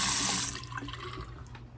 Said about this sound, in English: And we have hot and cold running water.